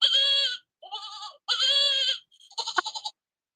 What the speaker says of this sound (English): Gotta hear the goat.